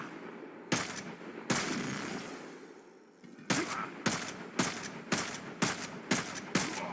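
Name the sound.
gunshots from a gun in a video game (Warframe)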